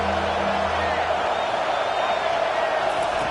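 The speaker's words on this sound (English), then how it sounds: "this crowd is tearing the lid off this place" Stadium crowd in the Madden 25 American football video game, a continuous loud roar of cheering fans filling the whole stretch, steady and dense with no breaks.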